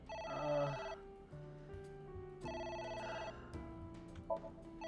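A telephone rings in the video game AI: The Somnium Files, a bright electronic tonal ring in repeating bursts, heard alone without talk.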